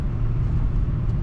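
A 1974 Lincoln Mk IV on throttle gives a deep, steady engine rumble heard from inside the cabin, a loud continuous low drone mixed with road noise.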